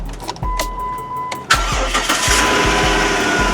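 A 2006 Dodge Caravan engine cranks with a whirring starter for about a second before catching, then settles into a steady close idle.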